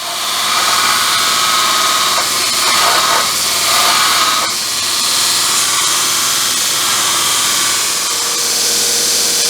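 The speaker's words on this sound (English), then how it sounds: "But I'm going to grind that off right there on both of them." A metal bracket being ground down on a Vevor mill table, a loud continuous grinding roar with hiss that runs unbroken through the whole stretch.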